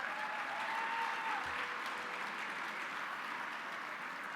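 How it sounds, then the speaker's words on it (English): A gala audience gives a sustained round of applause, with steady, dense clapping from a large crowd filling the room at an even level throughout. "please give them a big round of applause"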